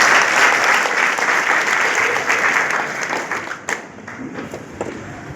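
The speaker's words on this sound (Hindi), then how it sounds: "ये इतने साथी एक बार के लिए जोरदार ताली बजाएं।" An audience at a network marketing meeting bursts into loud applause, thick clapping that fills the room and then thins out into scattered claps toward the end.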